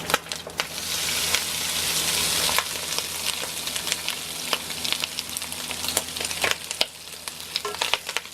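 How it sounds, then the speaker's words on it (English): Loud, steady sizzling of pork belly frying in oil in a hot pan, with occasional crackles and pops and a brief stir partway through. "just throw it in and just start frying away"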